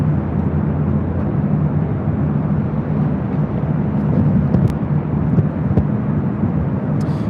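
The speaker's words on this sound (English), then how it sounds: "Delta Airlines Flight 443 heading to Honolulu" A Delta Boeing 767-300ER airliner at LAX bound for Honolulu, its jet engines a loud, steady, broad roar with deep rumble, sustained throughout and with no voices.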